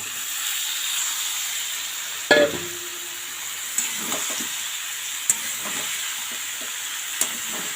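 Broccoli dropped into a hot pan with beans, carrots and peas gives a sharp splash, then a steady close sizzle broken by a few brief clinks of stirring.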